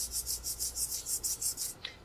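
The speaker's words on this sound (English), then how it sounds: "using the eraser, the soft part, against the bell" A rhythmic rubbing squeak from a soft eraser rubbed against a bell repeats about ten times in a steady back-and-forth pattern, close and bright, ending with a faint ring.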